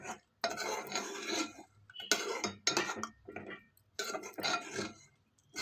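A spoon stirs chicken curry in a pot after water is poured in, making repeated scraping, clinking strokes of metal against the pan in several bursts with short pauses between.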